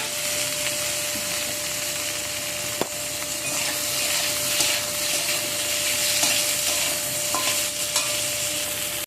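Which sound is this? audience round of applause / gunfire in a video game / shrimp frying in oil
shrimp frying in oil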